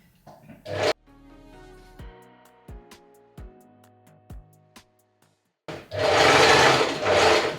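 A sewing machine runs short bursts of stitching along the side seam of a tank top or dress, its rapid needle chatter loud and close, with quiet pauses and mechanical clicks in between.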